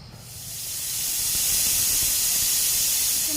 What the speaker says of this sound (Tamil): இப்போ மூடி போட்டு நம்ம விசில் விட்டுறலாம் ஒரே ஒரு விசில் விட்டுட்டு